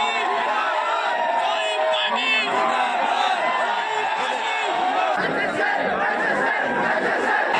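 A dense crowd of students at a college election in Chandigarh shouts and chatters continuously, loud and close, with whoops and yells rising over the steady roar of voices.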